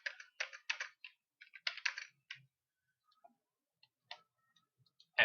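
Keys clatter on a computer keyboard as invoice figures are entered, quick bursts of crisp clicks then scattered single taps and pauses, close and clear with no talk.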